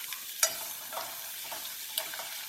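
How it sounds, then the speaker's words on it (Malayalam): Onions sautéing in hot oil over a high flame for a Kerala chicken mulakittathu, a soft steady sizzle broken by a few sharp scraping stirs of the spoon, close and moderately quiet. "എണ്ണ ചൂടാകുമ്പോൾ ഉള്ളി ഇട്ട് കൊടുത്തിട്ട് ഒന്ന് നന്നായിട്ടൊന്ന് വയറ്റി കൊടുക്കണം"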